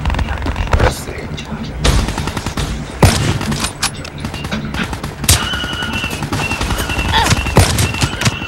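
AK rifle fire in a first-person shooter video game crackles in repeated bursts and single loud shots throughout, with in-game chatter and a player's voice mixed underneath.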